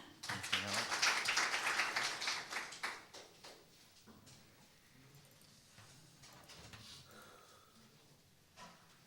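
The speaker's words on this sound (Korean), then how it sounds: "CBT 솔루션즈의 염병호 대표 이사님께 다시 한번 뜨거운 박수 부탁드리겠습니다" Audience applause at a SketchUp conference session greeting the CEO of CBT Solutions as he takes the stage: a dense burst of clapping for about three seconds that quickly thins out and fades into near quiet.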